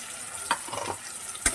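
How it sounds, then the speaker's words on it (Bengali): A paste of white and black mustard and poppy seed with cumin powder, fried for a thin drumstick-stem curry, sizzles steadily at close range, with a couple of brief stirring scrapes. "এই মশলাটাকে আমি 1 মিনিট কষিয়ে নেবো ভালোভাবে"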